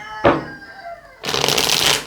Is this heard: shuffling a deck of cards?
yes